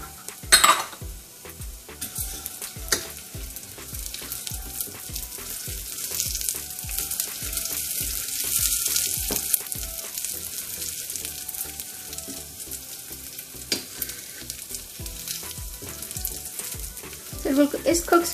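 Chana dal and urad dal fry in hot oil for oat upma, a steady close sizzle with repeated scraping and clinking of a spoon against the pan in an uneven stirring rhythm.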